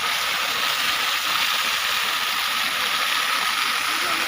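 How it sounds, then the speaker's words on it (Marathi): Pressurised water from a village pipeline gushes into a farm field beside sugarcane and gram crops, making a steady, loud rushing hiss that stays constant with no pauses. "हे पाणी बघा, हे पाण्याचं प्रेशर बघा."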